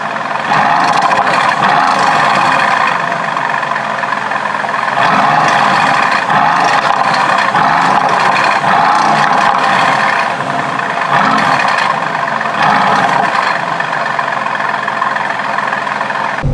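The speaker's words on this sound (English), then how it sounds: "I will leave it in race mode and the sports exhaust button on, so You can hear that beautiful AMG engine." AMG sports car engine idling in race mode with the sports exhaust open, a loud, steady, rumbling drone that holds close throughout with slight surges in level.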